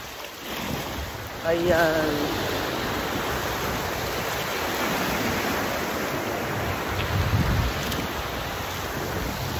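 Ocean surf rolls steadily onto Guinsularan beach, a broad continuous wash of waves with wind noise, while a voice speaks briefly at the start.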